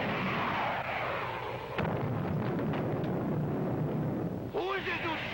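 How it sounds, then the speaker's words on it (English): Missile launch and explosion effects in a 1954 space adventure serial sound as a sustained roaring rumble, with a sharper burst partway through. Close and heavy, with a faint voice near the end. "Prepare to fire 2 missiles on a 5-count, Biff."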